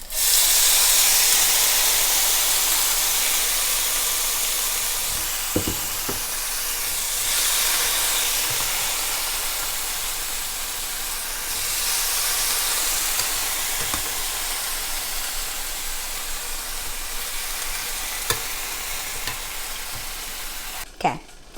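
Seitan fries in an oiled pan with a loud, steady sizzle and hiss, broken by a few stirring clicks and scrapes, with no talking.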